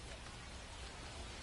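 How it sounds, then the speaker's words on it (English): Steady rain pours down during a baseball game in MLB 2025, a dense, even hiss with no breaks, heard on its own with no voices. "Well, the rain's still a factor here"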